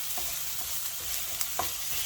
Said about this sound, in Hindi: बस हल्का से हमने इसको फ्राई करना है कि इसमें लहसुन अदरक की खुशबू सी आने लगे।